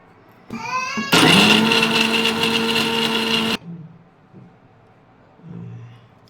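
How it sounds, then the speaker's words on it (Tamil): A mixer grinder whirs loudly and steadily for about two and a half seconds, grinding roasted gram and coconut, then cuts off abruptly; brief voices come just before it starts and murmuring follows afterward. "இப்போ பொட்டுக்கடலையும் தேங்காயும் மிக்ஸ் பண்ணியாச்சு, அரைச்சி"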